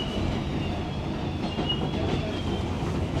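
A New York City subway J train rides through Brooklyn, a loud, continuous rumbling roar of wheels on track with a faint high squeal running throughout, steady and close.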